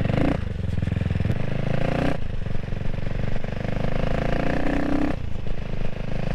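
A CCM Spitfire Six motorcycle engine runs close by with a loud, throaty idle. It breaks into two rising revs that swell and fall back, and no one speaks over it.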